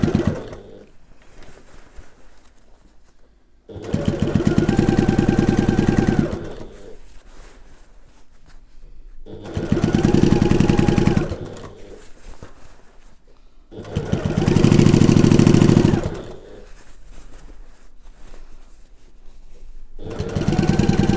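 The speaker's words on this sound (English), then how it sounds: "I'm going to sew it all the way around on the bottom line." Sewing machine stitching all the way around the bottom of a fabric gift bag: close, loud, steady mechanical whirring in four runs of a few seconds each, separated by quieter pauses.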